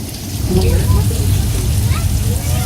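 Rushing flash flood water effect on the Universal Studios studio tour, a loud continuous wash and splash of water with a rumbling low end, with voices audible beneath it.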